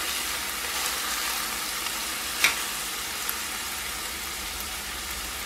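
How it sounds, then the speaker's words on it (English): Garlic fries in a pot with a steady, bright hiss of sizzling oil throughout, with a single small tap or stir click partway through and no voices. "Just fry it a little bit. Make sure that it doesn't burn"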